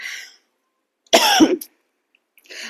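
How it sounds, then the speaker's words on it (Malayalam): A single burst of harsh coughing up close, framed by quiet background, with faint hiss at the start and end. "എനിക്ക് ചുമയൊക്കെ വന്നുപോയി"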